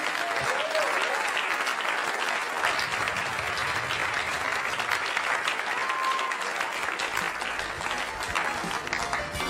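Sustained audience applause at a comedy show, dense clapping filling the room at steady loudness for several seconds.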